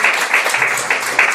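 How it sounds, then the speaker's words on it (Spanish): A church congregation applauds for Jesus during a sermon on prayer in Gethsemane, a loud, close burst of clapping with slightly pulsing intensity and no speech over it. "Aplausos a Jesús"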